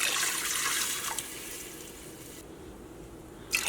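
Water splashes and pours steadily into a pot of moong dal payasam, a continuous rushing stream that eases partway through and stops, followed by a brief clatter.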